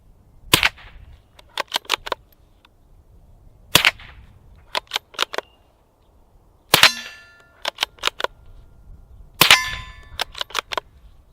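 Suppressed gunshots through an AAC Halcyon modular silencer in its shortened configuration, firing supersonic ammo outdoors: loud sharp cracks in irregular clusters, each major report followed by a few quicker, softer snaps, with short pauses between groups.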